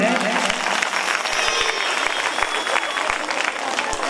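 An audience claps steadily throughout a dense, continuous round of applause at a Bhagwat katha, a Hindu scripture recitation, on its seventh day.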